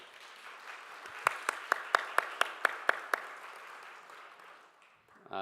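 A church congregation applauding in welcome during a Taiwanese-language service, a broad wash of clapping with a run of sharp, evenly spaced individual claps standing out in the middle, fading away toward the end.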